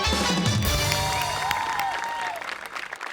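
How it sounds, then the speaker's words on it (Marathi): A stage audience gives loud, steady applause for an actor receiving an award at a comedy show ceremony. The clapping is dense and sustained throughout, with a faint crowd murmur and a whistle-like tone in the middle, then tapers slightly at the end. "जोरदार टाळ्या."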